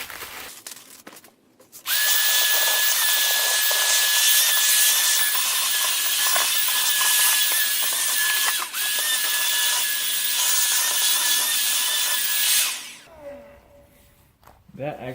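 A Ryobi P714K 18-volt ONE+ hand vacuum whines loudly and steadily as it sucks up crushed crackers on a floor, starting abruptly after a brief rustle and cutting off near the end.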